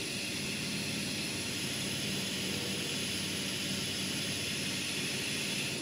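An air compressor runs with a continuous, loud, broadband mechanical roar and hiss that stays steady throughout without pauses, heard while working on an H22 engine swap and with no talk.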